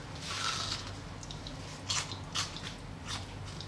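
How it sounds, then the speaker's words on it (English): Someone bites into a hot, crispy toasted spicy potato and cheese sandwich, producing a close crunch followed by a couple of softer chewing crackles, with no talk over it. "Let me have the pleasure in giving that a bite."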